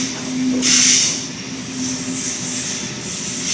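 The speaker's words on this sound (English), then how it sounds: "A74 now departing platform number 1 for Liverpool via Bankstown." A Sydney Trains T3 Bankstown Line service pulls away from platform 1 bound for Liverpool, giving a steady rumbling hum with a brief swell of hiss partway through, moderately loud and close.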